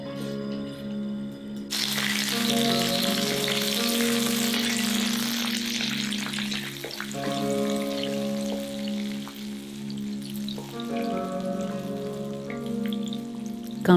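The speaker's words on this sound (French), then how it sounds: "Dans l'huile chaude, on met le mélange préparé." Meatball mixture for lion's head meatballs sizzling as it goes into hot oil, a loud continuous crackling fry that swells after a quiet start and holds steady, with a low hum beneath and no voices.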